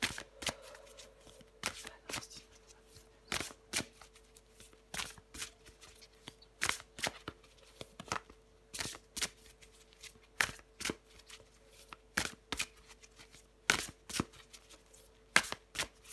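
A deck of tarot cards is shuffled by hand in repeated sharp riffles and snaps, close and crisp, arriving in irregular bursts with short pauses between them and no talking.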